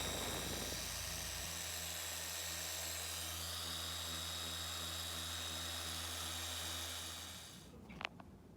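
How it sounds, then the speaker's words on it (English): Polishing machine buffing a flood-coated epoxy desk, a steady whirring motor hum that starts low and holds for about seven seconds before winding down, followed by a few faint clicks and handling noises. "start at a very low speed and start your polishing process. Gradually increase speed"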